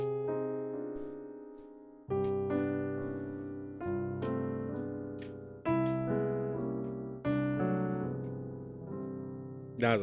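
Solo piano plays a 3-2 exercise in C, striking clear chords roughly every one to two seconds and letting each ring and decay before the next, close and alone without talking.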